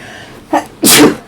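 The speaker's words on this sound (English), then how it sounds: "I'm going to sneeze." A single close sneeze: a short inhaled catch followed by a sharp, bright burst of air.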